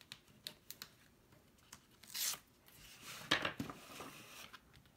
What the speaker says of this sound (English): Burnish it down.